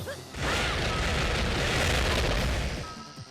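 A bomb explosion in the video game Bomberman Generation: a brief lead-in, then a loud, sustained booming blast that rumbles steadily for about three seconds before fading.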